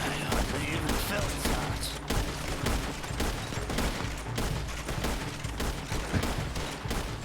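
Gunfire in Red Dead Redemption played on a RedM roleplay server, a loud, continuous barrage of overlapping shots with no gaps, clipped and harsh throughout.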